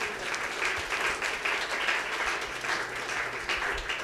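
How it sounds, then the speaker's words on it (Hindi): A congregation applauds during a Hindi-language church sermon: dense, steady clapping fills the whole stretch, close and continuous, with no one speaking over it. "तालियां बजानी है तो सही बजाइए।"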